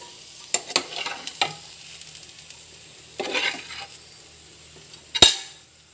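Fried beans being scooped out of hot ghee in a pan, a low sizzle under a few scraping scoops of a metal spoon and a sharp clank of the spoon against the pan near the end.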